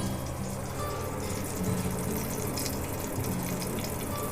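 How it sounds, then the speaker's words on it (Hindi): A small amount of water poured into turmeric while preparing instant kadhi pakoda in a pressure cooker, a steady trickling wash running evenly throughout at moderate level, with no talk. "तो इसके लिए मैं थोड़ा सा पानी ऐड करूँगी हल्दी में।"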